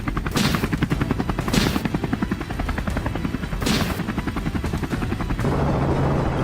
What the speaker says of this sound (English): the helicopter blades slicing through the air, and the gunfire mixed with the roar of the engines